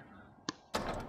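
A door in the survival horror game Resident Evil HD Remaster gives a short knock-like thunk, followed by a louder, fuller opening sound after a brief pause, with no talk.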